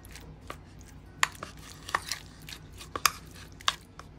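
Tandoori chicken masala being mixed into a pizza topping: soft, close, irregular squishy taps and light clinks of a spoon against a bowl, with low background hum and no speech.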